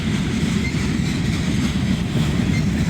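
A freight train with a distributed power unit locomotive rolls past close by, a loud, steady low rumble of wheels and cars with continuous rail noise throughout.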